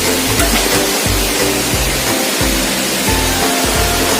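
Curug Cikaracak waterfall in Cinagara, West Java pours steadily as a dense, broadband roar of rushing water, loud and close, with faint low thumps beneath and no voices.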